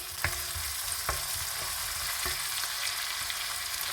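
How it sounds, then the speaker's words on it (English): Red onions brown over high heat in olive oil for a veal stir-fry, a constant loud sizzle broken by a few crisp knocks of the spatula against the pan. "I have just switched the stove setting to high so that the onions can brown very quickly."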